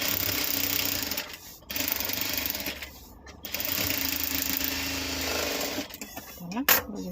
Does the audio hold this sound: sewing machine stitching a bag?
yes